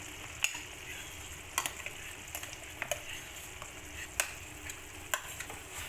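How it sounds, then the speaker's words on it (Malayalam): Crushed banana is stirred into boiling jaggery syrup in a pan, with a soft continuous sizzle and bubbling broken by scattered scraping clicks of the spoon, no voices. "ഇതിന് നമുക്ക് നല്ലോണം ഒന്ന് മിക്സ് ചെയ്ത് കൊടുക്കാം"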